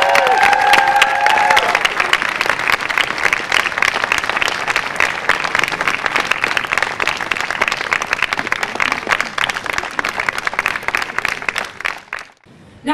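Loud, sustained applause from an audience at Folkemødet 2016 welcoming Pia Olsen Dyhr of Socialistisk Folkeparti to the main stage, with dense clapping and some cheering that stays steady before dropping off abruptly near the end.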